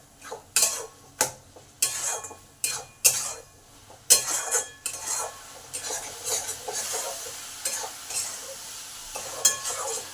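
A spoon scrapes and stirs a coconut, jaggery, cashew and cardamom modak filling in a pan, in repeated rhythmic strokes with faint sizzling and occasional metallic clinks, close and clear.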